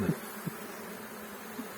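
Soft, low buzzing of a honeybee swarm hovering nearby, a few louder passes standing out against a quiet background.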